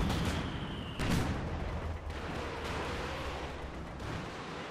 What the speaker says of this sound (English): More barrages, I guess.